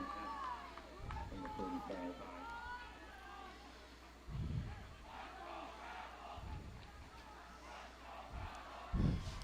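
Fans in the far right corner of the home stands at a 2019 high school playoff football game chant "Let's go Rebels" in rhythmic bursts, a distant, reverberant crowd roar rising and falling every couple of seconds.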